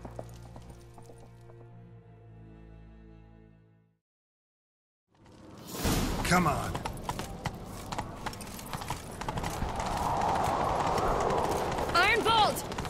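After a short musical passage and a pause, rapid horse hoofbeats gallop steadily under a brief spoken line, with sound effects layered on top, in the video game The Witcher 3: Wild Hunt.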